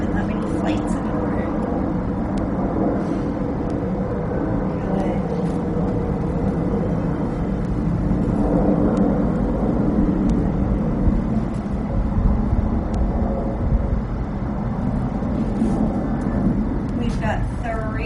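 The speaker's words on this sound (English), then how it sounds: "I'm hearing an airplane right now, and that seems like such a foreign sound" An airplane passes overhead as a low, steady, distant drone that lasts throughout, partly masked by a person speaking over it.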